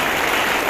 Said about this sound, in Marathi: त्यांच्या जाधव काकींसाठी जरा टाळ्या वाजवा